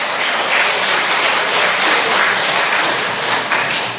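Loud, dense applause from a church congregation during a sermon, many hands clapping steadily throughout with no voices.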